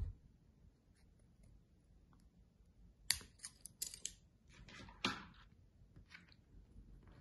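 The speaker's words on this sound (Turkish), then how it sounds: "bu beyaz keçeyi kestikten sonra ortasından bir delik açacağım." Scissors cut a hole through the middle of a piece of white felt while making an amigurumi bee: a quiet stretch, then two crisp close snips a couple of seconds apart with faint rustling of the fabric.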